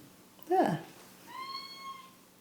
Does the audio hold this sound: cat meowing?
yes